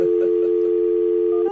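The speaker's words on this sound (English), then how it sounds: "You about ready to give him a call, see if we can get him on the phone?" A telephone dial tone sounds as a call is placed: one steady, continuous tone that plays on its own, moderately loud and unbroken.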